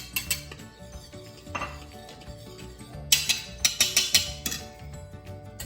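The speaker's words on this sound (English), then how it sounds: "mix everything together" Carrot cake batter with spices and walnuts being mixed in a bowl with a whisk: clinking, scraping strokes against the bowl, sparse at first, then a quick run of sharper, louder taps near the end.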